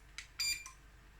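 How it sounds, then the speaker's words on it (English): A few short electronic beeps from a Soyabella soy milk maker, faint and high-pitched, in a quiet room with low background hum. "the machine has just beeped a few times"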